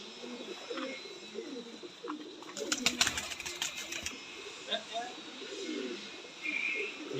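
Teddy pigeons in a flock of eleven, six hens and five cocks, coo softly in repeated low murmurs alongside a brief flutter of wings, while someone talks over them nearby.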